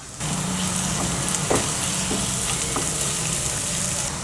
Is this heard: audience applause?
no